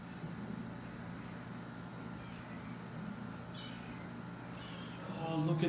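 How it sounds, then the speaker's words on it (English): Cats meowing faintly inside a house in Subic Bay, Philippines, thin intermittent mews over a steady low hum of background noise. "Oh, look at this. It's Luke's cats."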